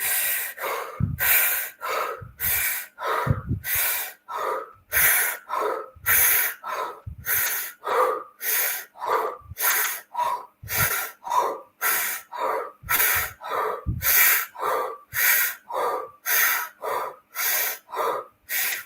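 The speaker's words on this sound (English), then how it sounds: "So just breathe with me." Deep breathing exercise with forceful, rhythmic breaths, about twenty sharp loud inhales and exhales in steady succession, close and without talk.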